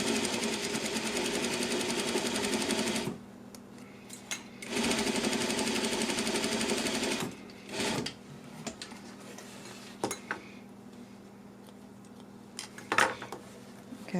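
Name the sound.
sewing machine top stitching a slant pocket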